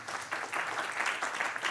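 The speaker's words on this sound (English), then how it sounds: "Please join me in a round of applause for the speakers." Audience applause for speakers at a conference session, a steady, dense wash of many hands clapping that carries on without a break and fills the room at moderate loudness.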